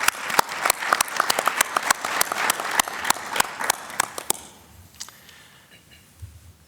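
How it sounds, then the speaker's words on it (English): Audience applause at a medical symposium on schizophrenia, a crowd clapping with sharp individual claps standing out close by, fading out after about four seconds into quiet room tone. "You deserve a round of applause."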